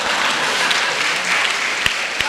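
An audience at a Hindi comedy poetry show applauds, a dense, loud wash of clapping that runs steadily throughout with a few sharper claps standing out near the end.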